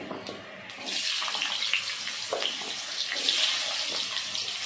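Potatoes sizzle in hot oil in a pan that already holds a ginger tempering with garam masala, cumin and dried red chillies, for a jackfruit and prawn curry. The frying makes a steady, fairly close hiss with no voices.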